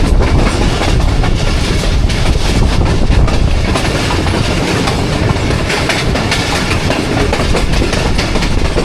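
The Awam Express passenger train rolls on rails from Rawalpindi toward Attock, a loud continuous rumble with rhythmic clickety-clack of wheels over rail joints, heard up close from on board.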